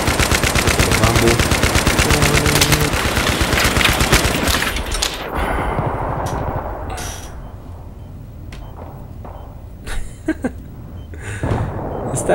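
M6D4 gun firing in Battlefield 3 on the Grand Bazaar map, loud rapid bursts dominating the first half, then scattered shots and explosions fading into quieter background.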